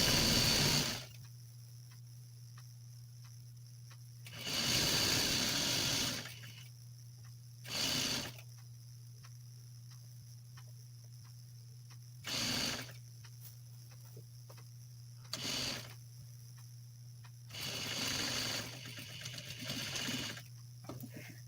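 A sewing machine stitches a hem on boxer shorts in short bursts, running loudly for a few seconds, stopping, then starting again repeatedly over a steady low hum, with no talking.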